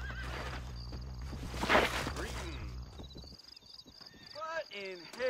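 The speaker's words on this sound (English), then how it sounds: "He's getting on a horse." In the Red Dead Redemption video game, a horse whinnies loudly while hooves clip-clop underneath, with game voices talking over and between the sounds.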